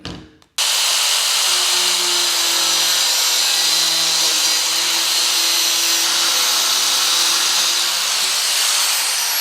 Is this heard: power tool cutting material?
yes